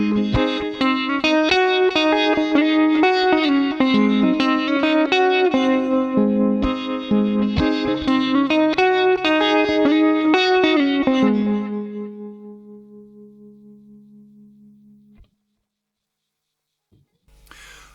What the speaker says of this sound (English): Let me just play the riff through a couple of times at relatively normal playing speed, and you'll hear what it should sound like